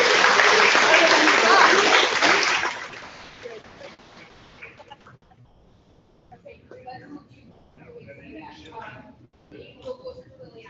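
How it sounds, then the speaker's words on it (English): Applause from an audience at a school board meeting, honoring a fifth grade team, plays loud and dense for about two seconds, then fades into a quieter room with scattered voices and small noises. "Please give a round of applause for our 5th grade team."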